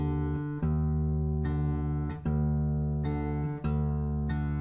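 The sixth and fourth strings of a guitar are plucked together while tuning down to drop D, their sustained notes ringing and decaying in several repeated strikes, close and clear without talk.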